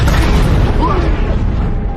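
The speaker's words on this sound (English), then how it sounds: "Thus, the older Buzz disappeared into space along with the explosion" An explosion sound effect in an animated space adventure: a loud, deep, rumbling boom that holds and slowly fades, with a brief whooshing sweep in the middle.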